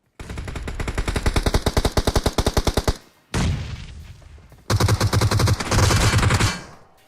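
Automatic weapon fire in the mobile battle royale PUBG Mobile, loud rapid bursts of gunshots in long strings with a brief pause between volleys, close and dominant, no talk.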